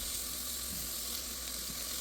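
Onion browns in a pan for Mexican rice, giving a faint, steady hiss of sizzling with no talk.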